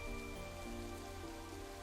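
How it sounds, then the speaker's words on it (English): Steady rain falling at night in the video game Psychedelica of the Black Butterfly, a soft continuous patter over a low background music drone, with no voices. "Listen to the rain."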